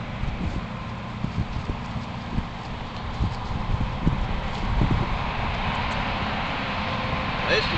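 A young colt's hooves clatter and clop on a horse trailer floor, irregular and fairly close, amid steady background noise and rumble.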